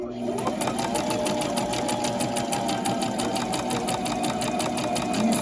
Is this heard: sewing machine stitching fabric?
yes